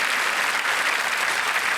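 Studio audience on a televised quiz show applauds steadily, a dense, even burst of clapping that fills the short moment with no voices on top.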